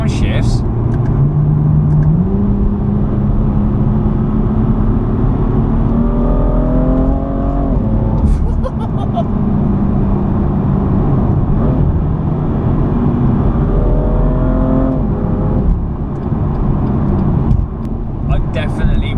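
A BMW M2 in sport mode revs hard and close up, the engine climbing through gears with quick downshift blips and rising, falling tones, loud and continuous inside the car.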